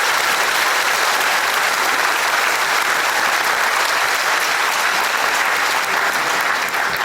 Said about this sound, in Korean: 우리 뜨겁게 다시 박수 한번 부탁드리겠습니다.